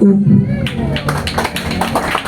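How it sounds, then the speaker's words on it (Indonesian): Audience at a Balinese storytelling contest for schoolchildren claps in a quick run of sharp, close claps after a brief voice at the start. "tepuk tangan mali apisan"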